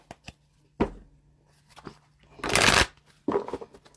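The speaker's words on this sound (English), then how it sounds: "one more shuffle" Tarot cards are riffled and shuffled in quick, soft bursts, with one longer flurry in the middle, close and fairly quiet.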